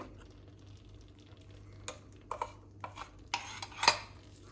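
A spoon scrapes and clinks against a pan in scattered strokes as cream is stirred into a paneer butter masala curry, quiet and close, with low background hum and no talking.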